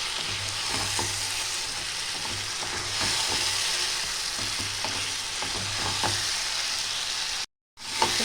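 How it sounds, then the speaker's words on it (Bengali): Fish pieces sauté in an oiled kadai for a Bengali sonkar macher jhal, a dense, continuous frying sizzle with repeated scraping stirs close by, cutting out briefly near the end. "এতে মাছগুলো একটু 1 থেকে 2 মিনিট আমি এইভাবে একটু কষিয়ে নেব।"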